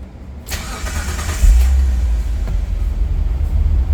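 A 1998 Mitsubishi 3000GT, revived after sitting for 12 years, cranks briefly and fires on a warm start, then settles into a loud, close, steady idle with a low rumble.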